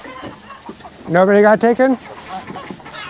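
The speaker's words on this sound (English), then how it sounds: "We got two roosters that are fighting in there." Several chickens squawk and cluck loudly in a coop at night during a rooster fight, a burst of harsh, pulsing cries peaking midway and then fading, with a person talking quietly around it.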